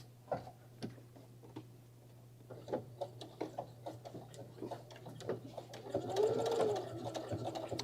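Sewing machine backstitching a wine carrier: quiet, fast bursts of needle ticking in short runs and pauses over a steady low hum, with a brief higher squeak near the end.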